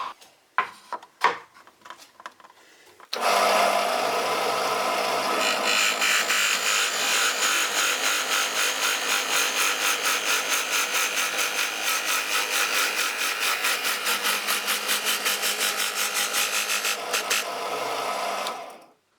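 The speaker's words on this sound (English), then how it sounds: "I drill a little and lift the bit, like this until the hole is finished." A drill press bores into a wooden cube, a loud steady whine and grinding for about fifteen seconds after a few sharp knocks, with a rhythmic pulsing as the bit is lifted and lowered, ending abruptly.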